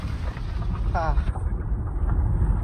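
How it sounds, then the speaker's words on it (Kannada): Strong wind at Gaajnur Dam, Shimoga, too strong to open a door, buffets the microphone in a steady low roar, with a brief whistling tone rising over it partway through. "ತುಂಬಾ ಗಾಳಿ ಇದೆ, ಡೋರ್ ಓಪನ್ ಮಾಡಕ್ ಆಗ್ತಿಲ್ಲ"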